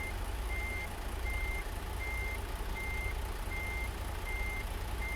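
A truck in American Truck Simulator backs up a trailer, and its reversing alarm beeps in an even, steady rhythm over a constant engine rumble, with no talking.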